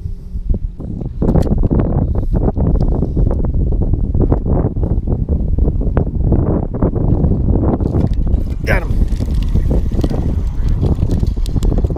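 Steady wind buffets a boat and microphone during night fishing for speckled trout with mini swimbaits, a loud continuous rumble with gusty bursts and a few knocks running through the whole stretch.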